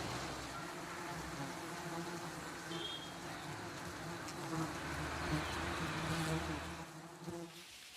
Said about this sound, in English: These giant honeybees are found all over South Asia.